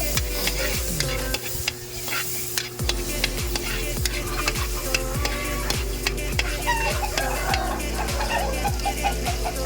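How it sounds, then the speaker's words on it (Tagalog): Garlic sautéing in butter in a pan, a steady sizzle with repeated scraping and stirring knocks from a utensil, close and continuous. "Nagisa na natin tong bawang sa may butter."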